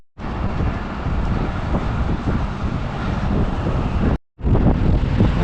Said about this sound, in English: it's just started to rain and get windy as well